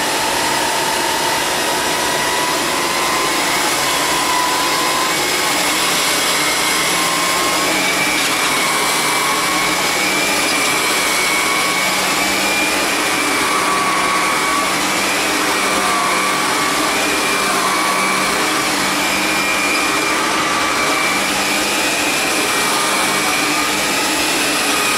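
An Electrolux vacuum cleaner runs at full power for the whole stretch, picking up powder, with a loud, steady, close whine and roar that shifts slightly in pitch as it moves over the floor.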